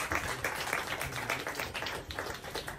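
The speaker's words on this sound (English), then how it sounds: "could we have a round of applause for the speaker?" Small audience at a panel discussion giving a brief round of applause, scattered hand claps fairly quiet and distant, tapering off toward the end.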